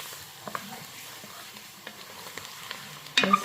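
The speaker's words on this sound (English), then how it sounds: "the sound of the wooden spoon against the bottom of the pot" A wooden spoon stirs roux and vegetables for gumbo in an Instant Precision Dutch oven, giving a faint low sizzle with sparse soft scrapes and taps against the pot bottom and a louder clatter at the end.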